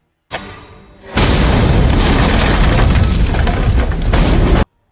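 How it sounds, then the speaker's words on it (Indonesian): In a film, a car explodes: a sharp pop followed by a brief low rumble, then a huge roaring explosion that sustains loudly for several seconds before cutting off abruptly. "mobil itu meledak"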